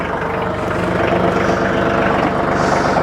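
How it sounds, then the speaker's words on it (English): A TYM tractor engine idles steadily close by, a loud continuous low diesel rumble with an even rapid pulse and no clear start-up heard, running alone without talk. "start the tractor."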